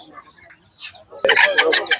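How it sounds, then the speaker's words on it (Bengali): Roosters and hens at a poultry market cluck faintly at first, then a loud burst of close squawking cackles fills the last moments, with some talking mixed in. "এখানে মুরগি আছে মোরগ দেখতে পাচ্ছেন"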